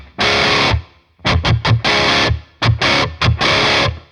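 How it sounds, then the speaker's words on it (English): Crunchy distorted electric guitar through a Quad Cortex with a subtle room reverb, playing short chord stabs and muted chugs in a choppy rhythm, each burst cut off with a brief ambient tail. "So this is going to be our more subtle room reverb for the crunch tone."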